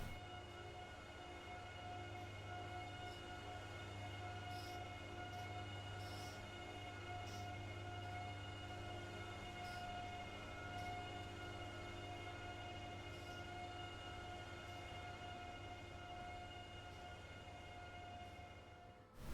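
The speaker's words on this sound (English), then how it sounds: "And so Bill and Ted had just enough power to get the train moving." A train rumbles steadily along with a sustained high squeal or whine riding over the low drone, continuous and fairly distant.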